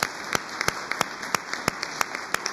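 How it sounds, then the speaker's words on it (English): Scattered, thinning applause from a conference audience thanking speakers at a World Energy Congress session in Istanbul, a handful of sharp individual claps spaced irregularly over a steady background hum. "please join me in thanking our speakers and give them a big round of applause"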